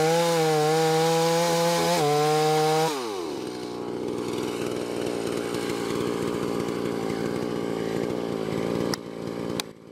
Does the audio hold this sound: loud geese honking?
no